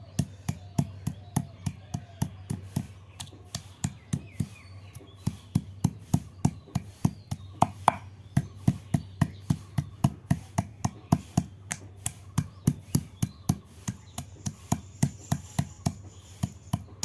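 Garlic and mango are pounded into mango paste with dozens of sharp, rhythmic crushing strikes, struck close and evenly with brief pauses between bursts and no talking.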